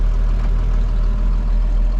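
A farm tractor runs its PTO to drive a feed mixer during morning feeding, a loud, steady low engine drone and mechanical rumble close by, with no talk.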